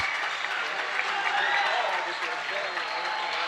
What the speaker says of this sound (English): As the seniors that go out get applause from their fan base.